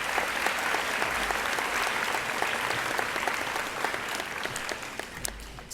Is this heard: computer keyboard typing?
no